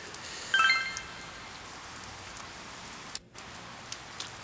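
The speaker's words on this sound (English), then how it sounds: "I doubt this old man is still out here when it's raining." Steady rain falls in the Persona 4 Golden game world, a continuous even hiss with no voices, broken by a brief brighter chime near the start and a short dropout later.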